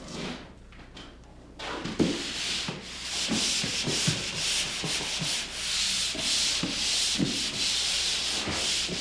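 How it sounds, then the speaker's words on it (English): Pole sander working drywall joint compound with a 120 grit screen, after a quiet start it settles into repeated rhythmic back-and-forth scraping strokes, close and steady, with occasional soft knocks. "I start the sanding with a pole sander using a 120 grit or finer sanding screen or paper."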